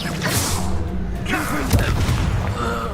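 A Bombarda spell explosion in Hogwarts Legacy, a deep booming blast with a whooshing rush, layered with game sound effects and a voice speaking.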